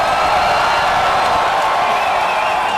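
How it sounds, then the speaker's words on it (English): A live audience roars steadily, a dense wash of crowd cheering and whooping held at constant loudness throughout, without distinct claps or a lead voice. "That crowd is awesome. They're so fired up."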